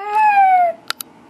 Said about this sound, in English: So they've been meowing all day